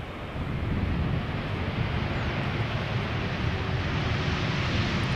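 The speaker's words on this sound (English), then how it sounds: "Dreamliner time." A Boeing 787 Dreamliner airliner at Schiphol Airport gives off a broad, steady jet roar that holds loud and constant throughout, mixed with wind buffeting on the microphone and no talking.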